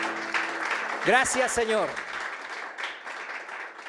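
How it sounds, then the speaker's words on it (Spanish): Church congregation clapping, a sustained wash of applause under which a voice speaks briefly and other voices murmur, continuing after the speech fades. "Dele un fuerte aplauso al Señor."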